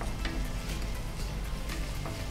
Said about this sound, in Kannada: ಹೀಗೆ ಸ್ವಲ್ಪ ಫ್ರೈ ಆದ ನಂತರ ಟೊಮೆಟೊ ಹಾಕಬೇಕು.